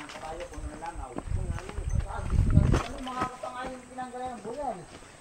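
Horse hooves clip-clop along at a walking pace on a Filipino farm, a loose uneven rhythm of hoofbeats mixed with people talking nearby.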